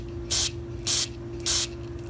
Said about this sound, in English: Stick your carb cleaner on one end, plug it off with your thumb on the other end. Now if I squeeze it, it should spray every direction.